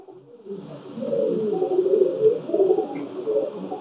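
Pakistani Teddy pigeons coo in a loft, a low rolling, throaty series of coos that swells and repeats for several seconds, fairly close and with no talking over it.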